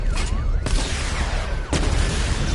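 Missile barrage fire in Batman Arkham Knight: a dense, loud volley of booming launches and impacts over a continuous rumble, with two sharp cracks standing out, alone without voices.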